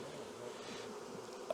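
A continuous hum of honey bees crawling on hive frames, fairly quiet and even, with a faint brief click near the end.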